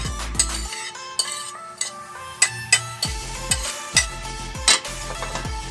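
A utensil stirs chopped onion and garlic with chayote in a pan, with repeated clinks and scrapes against the metal at an irregular rhythm over a faint sizzle, close and clear.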